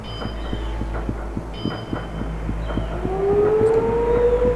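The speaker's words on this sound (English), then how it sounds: "The siren that you're hearing is like for the workers to stop working." A harbour siren signalling workers to stop in the Shenmue video game at New Yokosuka Harbour, a loud rising wail swelling over a rhythmic low mechanical throb and hum of the docks.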